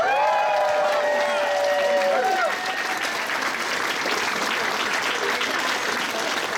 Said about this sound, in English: A final big round of applause for all the cosplayers tonight